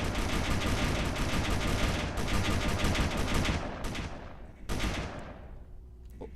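Turret gunfire in the space game Space Engineers, long loud continuous bursts of rapid automatic fire with brief pauses, then a tail-off and a final burst, no talking.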